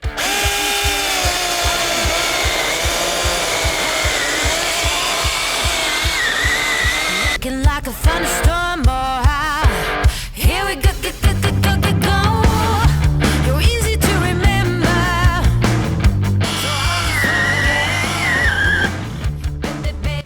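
A Sequoia cordless mini chainsaw bites into hard oak, its motor whining steadily before the chain loads up into a loud, rough, stuttering cut that grinds on continuously, close and without talk.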